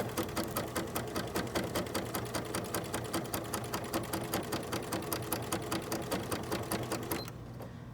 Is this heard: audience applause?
no